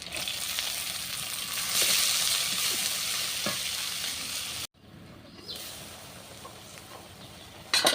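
Dried shrimp sizzling and frying in a pan with fried onion, turmeric, chilli, coriander, cumin, green chilli and garlic, a steady close hiss with stirring scrapes that cuts off abruptly partway, then returns quieter.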